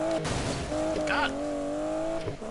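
An Aston Martin DB11 turns in Need for Speed Payback with a steady, droning engine tone and a brief tire squeal midway. A voice talks over it.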